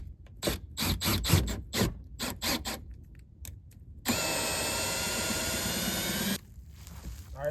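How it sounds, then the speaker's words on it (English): A power drill with a 1/4 inch bit bores into the rear bumper of a Mustang GT, giving about two seconds of steady, close, high-pitched grinding whine after a run of short clattering bursts. "We got our 1/4 drill bit, and we got our drill here."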